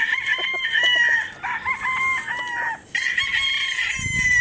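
A Gal Henny gamefowl rooster crows close by on a gamefowl farm, giving a couple of loud, drawn-out calls with a short break between them and no voices over them.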